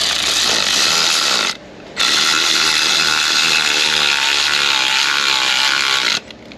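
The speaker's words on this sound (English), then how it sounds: "we'll switch it out with our electronical ratchet" An electric ratchet runs in two loud, sustained buzzing bursts with a short pause between them while it tightens a bolt during a water pump job on a Chevy Equinox 3.6L.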